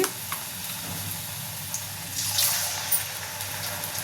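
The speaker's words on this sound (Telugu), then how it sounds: "ఇప్పుడు తీసి ఇట్లని నూనెలో వేసుకుందాం" Bottle gourd garelu fritters frying in hot oil over a medium flame, a steady soft sizzle and crackle running throughout with a few brighter pops near the middle and end.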